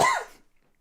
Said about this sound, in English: I coughed up a Buick.